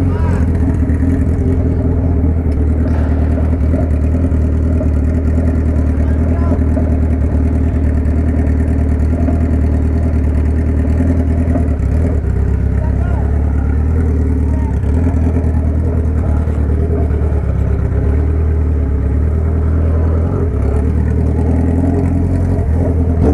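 Suzuki B-King motorcycle engine idling and rumbling at low speed in night traffic in Indaiatuba, a steady loud drone throughout with small rises in revs, heard close with a rider talking over it.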